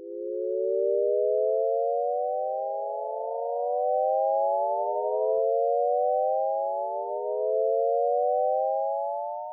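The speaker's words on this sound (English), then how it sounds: "Technically speaking, this is not a Shepard tone, but a Shepard Rissé glissando." A Shepard-Risset glissando auditory illusion: smooth stacked sine tones glide endlessly upward, each layer fading out as a new one fades in, steady and moderately loud with no other sound.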